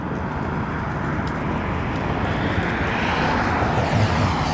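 A fixed-wing aircraft approaching London Heathrow Airport makes a broad engine roar that swells gradually as it nears. It is sustained and alone, with no speech.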